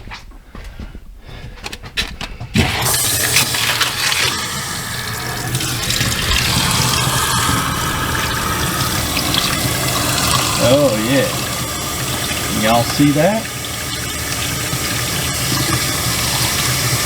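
Hot water runs steadily from a camper tap in a horse trailer, a continuous close hiss and splash that starts suddenly after a few clicks and carries on under brief talk.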